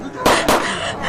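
Soldiers' gunfire in a Filipino audio drama: two sharp, loud bursts in quick succession over a dense, noisy background.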